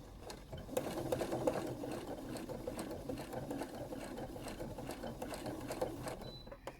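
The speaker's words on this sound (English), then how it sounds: "So I'm just going to be working around, sewing down everything, so all the edges." A sewing machine stitches steadily around the edges of a quilt block, its continuous mechanical whir and needle chatter running close and even for several seconds with no talk.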